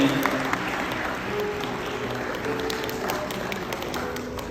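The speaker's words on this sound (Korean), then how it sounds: "힘찬 박수 한번 부탁드립니다" A crowd in the Lotte Hotel Crystal Ballroom breaks into hearty applause at a celebration, sustained clapping from many hands that fills the room evenly for several seconds.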